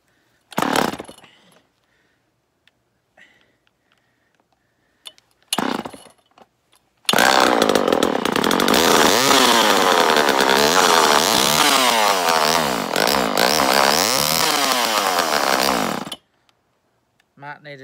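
A Homelite Super EZ chainsaw fires after fuel priming, following brief pull-start bursts, then runs loud and steady for about nine seconds with rising and falling revs before cutting off abruptly.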